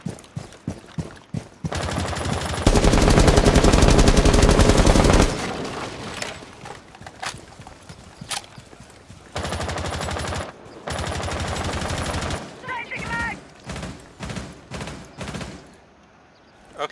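Sustained automatic gunfire from Rainbow Six Siege on the Hereford map, long loud full-auto bursts sprayed through a window, separated by quieter stretches with scattered single shots and footsteps.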